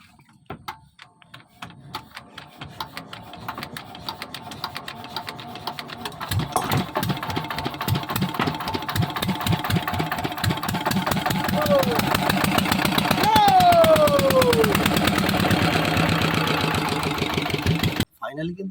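A boat engine on a Sundarbans river in stormy weather cranks, catches and settles into a steady, loud idle close by, with a voice heard over it.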